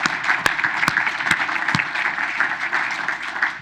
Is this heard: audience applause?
yes